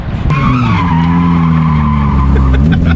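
A drift kart fitted with a hydraulic e-brake slides through a corner, tires squealing in a long, loud continuous skid over a steady engine drone, close up.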